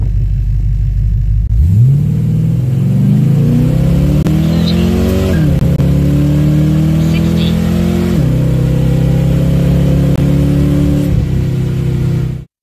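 Foxbody Mustang weighed at about 3280 pounds launching down a drag strip on a quarter-mile pass, the loud close engine rising through several gear pulls, each climb in pitch followed by a drop, then cutting off abruptly at the end.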